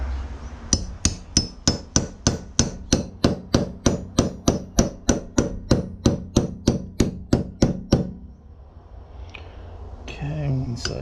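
A hammer knocks a part into a Saginaw power steering pump during a rebuild, striking about two dozen close, sharp metallic taps in a steady, even rhythm. The taps then stop, and a brief voice follows.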